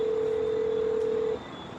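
A phone call is placed and a single steady telephone tone sounds for over a second, then cuts off, leaving a quiet hiss.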